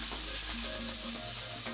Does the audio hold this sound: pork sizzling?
yes